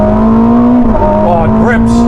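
A Ferrari SF90 Stradale hybrid supercar pulls hard in third gear from the cabin, its loud steady engine drone rising in pitch with a brief shift-like dip, while someone talks over it.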